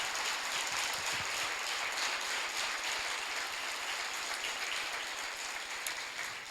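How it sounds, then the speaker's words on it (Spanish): A church congregation claps together in a dense, even patter of many hands, fairly distant and soft, sustained steadily throughout without a break. "Vamos a aplaudirle a esta palabra"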